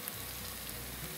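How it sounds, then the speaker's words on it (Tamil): Tomatoes sautéing in a kadai during biryani preparation give a steady, dense sizzle and crackle of frying, close and continuous with no talk. "அப்புறம் தக்காளி போட்டு நல்லா வதக்குங்க"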